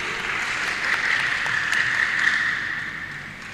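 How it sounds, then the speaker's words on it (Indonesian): Audience applause for a team at a final Qur'anic knowledge quiz competition in North Sumatra, a soft, steady wash of clapping that swells slightly in the middle and fades toward the end. "Tepuk tangan untuk Regu B."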